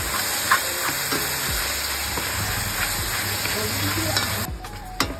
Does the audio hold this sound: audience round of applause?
no